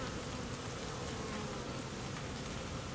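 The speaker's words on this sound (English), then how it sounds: "there's just a ton of bees in here" Honeybees buzzing inside a crowded hive box, a dense, continuous drone of many wings at low level, even and unbroken throughout with no talking.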